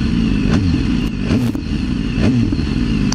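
A motorcycle engine rumbles loudly at close range with a low, throbbing exhaust note and a few quick rising revs, with no speech.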